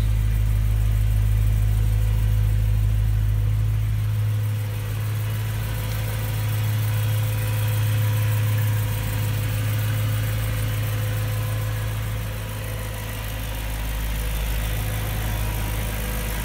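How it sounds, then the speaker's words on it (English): A 2009 BMW M3 Coupe engine idles with a deep, steady rumble and low hum, smooth and even, close by with no talking. "Beautiful sound from the engine."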